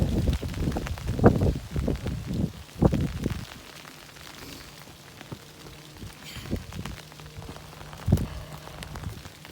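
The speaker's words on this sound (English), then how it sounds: "it started raining pretty hard." Heavy rain on the Appalachian Trail in Pennsylvania patters on a surface, dense and loud at first, then thinning to scattered drops and a steady soft hiss.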